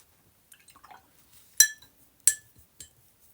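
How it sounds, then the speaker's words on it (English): Clear water flicked and splattered onto a journal page: a few sharp, bright drip-like clinks and taps, two louder spatters standing out among softer ticks, close and otherwise quiet. "And then I'm taking just clear water and make some splatter."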